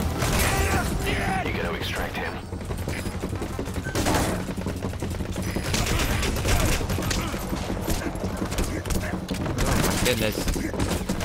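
Gunfire in the video game Metal Gear Solid V: The Phantom Pain: rapid, repeated shots crackle in continuous bursts, with mechanical clatter mixed in, while someone talks over the shooting.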